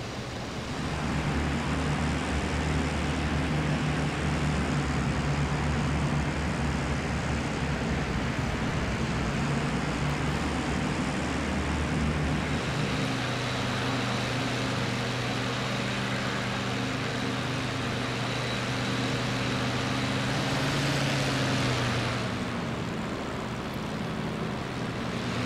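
Aircraft engines drone steadily from a V formation of bombers in flight in the IL-2 Great Battles combat flight game. The loud, continuous hum shifts in tone partway through, as if the engine mix changes.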